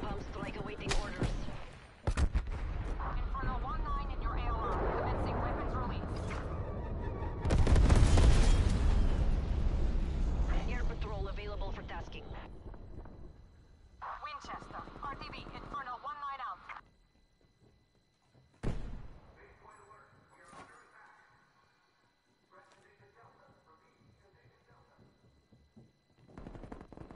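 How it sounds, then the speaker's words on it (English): Call of Duty Cold War Search and Destroy match with loud gunfire and blasts from a bomb strike, heavy rumbling bursts that fade, then a sharp impact and quieter tail, with game announcer voice lines over it. "Enemy bomb strike awaiting orders."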